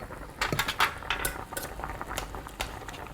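Chashu pork being turned in a simmering pot on the stove: a cluster of clinking utensil and pot knocks over a faint bubbling bed, close and fairly quiet.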